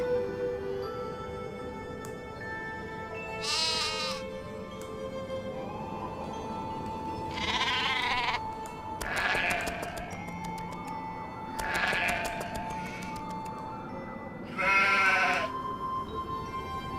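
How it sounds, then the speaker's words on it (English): Several separate sheep bleats in the video game Nancy Drew: The Haunting of Castle Malloy, each a second or so long, spaced a few seconds apart over a steady low background hum. "How do we get the sheep?"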